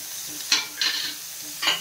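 Carrots and cabbage tossed into a hot pan while cooking quinoa, giving a few close, brief bursts of sizzling and stirring scrapes separated by quieter frying.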